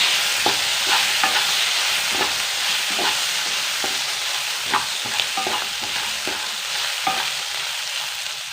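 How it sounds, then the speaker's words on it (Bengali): Lemon rice being stirred in a hot frying pan: a constant soft sizzle of frying with repeated scraping taps of the spoon against the pan, roughly twice a second, close and moderate in level. "এরম করে নেবুটা দিয়ে নেড়ে দেবো একটু"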